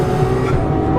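A Ferrari 812 V12 engine roars loud and full inside the car at high RPM, a dense, sustained engine sound with no break.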